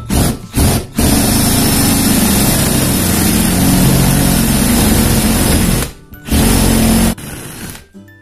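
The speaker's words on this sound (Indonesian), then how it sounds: "Jadi kita mengebor rapi kalau kita bor timbal balik." Power drill bores a lock hole in a melamine kitchen cabinet door, whining loudly at close range in two steady runs separated by short pauses.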